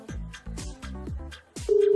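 Telephone dialing on a phone, a quick run of touch-tone beeps in an uneven rhythm followed by a steady tone, close and moderately loud with no talk.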